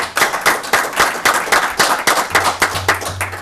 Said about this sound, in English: So I think we just need to give them a round of applause